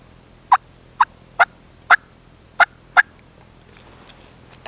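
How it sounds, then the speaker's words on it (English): Soft turkey clucks and gentle yelps made on an ESH Custom Calls mouth call, six evenly spaced short notes, close and clear, then quiet with only faint room sound. "Maybe all you have to do is cluck at them or make a real soft yelp"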